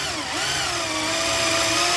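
A drill bores into the neck pocket of a 1994 Fender Telecaster body, a loud whining power-tool tone that dips briefly, then holds steady and close.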